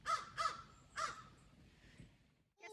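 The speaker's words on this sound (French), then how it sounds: "On s'est fait réveiller par les corneilles, il faut dire." Crows caw outdoors at a campground along a rail-trail, three loud harsh calls in quick succession near the start, then fainter cawing and a brief chirp at the end.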